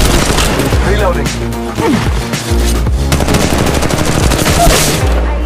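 Sustained automatic gunfire in the Apex Legends battle royale game, with dense rapid bursts and booming impacts filling the whole stretch, loud and close, with game voices under the shooting.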